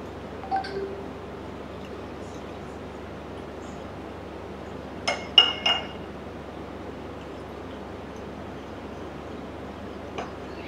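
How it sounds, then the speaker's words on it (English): A drinking glass held upside down is dipped into a bowl of melted dark chocolate, giving a quick cluster of light glassy clinks midway, with a faint tap later against a quiet room hiss. "Once the chocolate is melted, just put the glass upside down"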